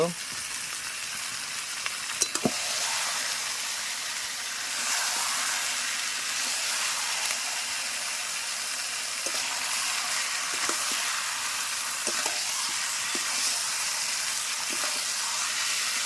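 Goat meat frying in a hot pan for mutton curry makes a steady, hissing sizzle, with scattered light clicks from the utensil.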